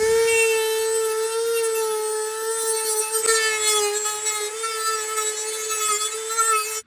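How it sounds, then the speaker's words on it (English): Dremel rotary tool running along a carbon fibre edge, a loud steady high-pitched whine held close for several seconds with slight pitch wobble as it bites, then cutting off abruptly. "I'm just going to run my Dremel along this part here"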